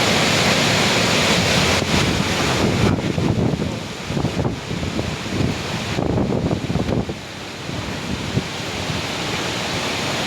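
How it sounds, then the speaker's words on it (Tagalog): Strong, steady typhoon wind in Negros, Philippines, roaring into the microphone with constant rushing noise and gusty surges, no voices. "Palakas na hangin."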